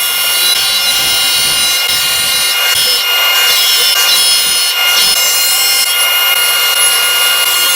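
A table saw rips wood into strips for a cabriole-leg dining table, its loud steady whine running unbroken from start to finish with brief dips as the blade passes through the stock.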